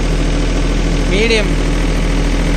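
A Swaraj Target 630 4WD mini tractor's diesel engine idles close by with a constant low rumble, and a brief tonal squeal rises over it midway.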